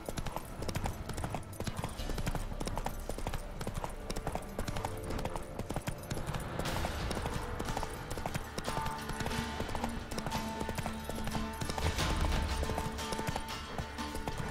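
Roach, the horse in The Witcher 3 video game, gallops in a steady, continuous clip-clop of hooves throughout, loud and close, with game ambience underneath and no speech over it.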